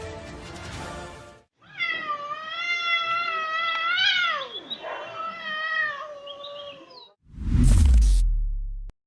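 A cat gives one long, loud, drawn-out meow with a wavering, bending pitch, framed by brief bursts of other noise at the start and a heavy thump near the end.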